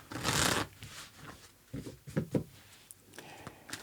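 Tarot cards are shuffled in a quick, dry riffling burst, then softer, scattered card handling follows, close and moderately quiet with no talking.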